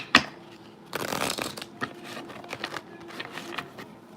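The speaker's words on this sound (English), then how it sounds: "These cards don't want to shuffle" Tarot cards are shuffled by hand in a run of quick, papery riffling and shuffling bursts, close and fairly loud, with no talking.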